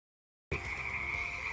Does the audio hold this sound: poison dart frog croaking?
yes